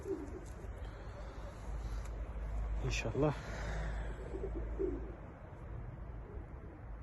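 Austrian homing pigeons kept as breeding stock give a short, soft cooing burst midway, faint against a steady low background hum, with someone speaking briefly.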